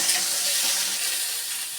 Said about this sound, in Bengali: সিমটাও ভাজা ভাজা করে নেব